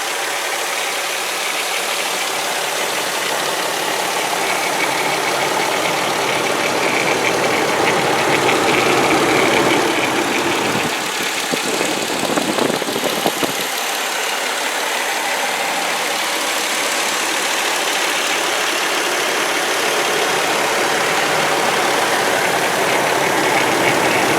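A 2004 VW Jetta GLI's 2.8-liter V6 engine idles steadily with a low, even rumble for the whole stretch, a brief rise in noise near the middle, no talking.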